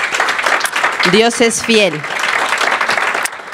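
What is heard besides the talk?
church congregation applauding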